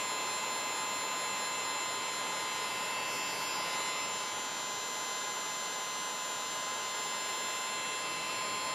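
A heat gun blows steadily at close range, a continuous hot-air roar with a faint whine, shrinking heat shrink tubing with silicone sealant over a soldered wire connection; no one talks.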